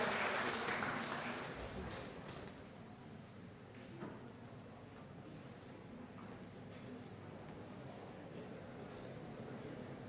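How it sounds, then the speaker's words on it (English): Faint applause from a hackathon audience, strongest at the start and then thinning to scattered claps and room noise, with a thud partway through. "Big round of applause, guys."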